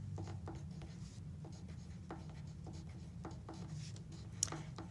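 Pen or pencil writing on paper, close and quiet, with a series of short scratchy strokes and brief pauses between letters, ending with a small tap.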